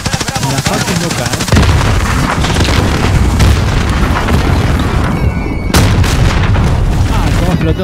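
Explosions and gunfire in a Call of Duty multiplayer match, loud and continuous booming and crackling battle sounds filling the whole stretch, with speech mixed in.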